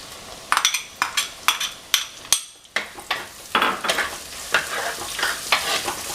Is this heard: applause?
no